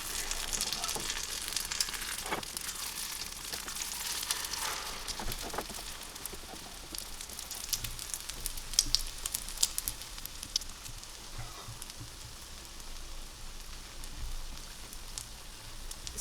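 An Indian omelette sizzles and fries steadily in a pan just after being flipped, a continuous close crackling hiss with no talking.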